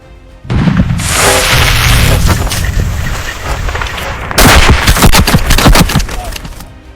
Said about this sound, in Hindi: उधर से फायरिंग शुरू हो गई।